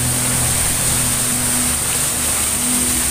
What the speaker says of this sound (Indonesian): suara air terjun